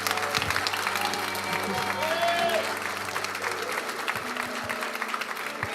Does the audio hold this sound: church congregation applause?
yes